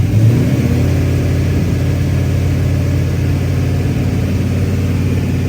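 A car engine revs steadily at close range while its fuel system is under test, a continuous loud mechanical drone with a dense low rumble and only slight swells, no voices over it.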